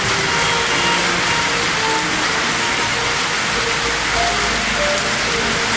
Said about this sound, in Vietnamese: mưa nặng hạt quá trời luôn